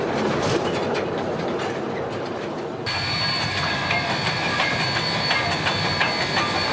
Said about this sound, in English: visitors can relax by taking a steam engine ride around the gardens on a genuine cane train